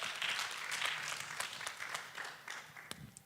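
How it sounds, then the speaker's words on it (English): Audience applause in a hall at a community event, a steady run of clapping from many hands lasting a few seconds, moderately loud with faint voices underneath. "You can give a round of applause again, kindly."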